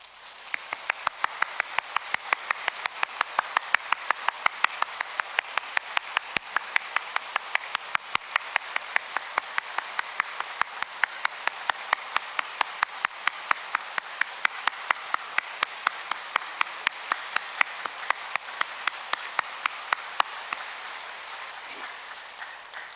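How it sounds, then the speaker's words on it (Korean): A church congregation claps energetically and steadily in a fast, even rhythm for over twenty seconds, a dense wash of many hands with no voices over it. "심차게 박수를 칩니다."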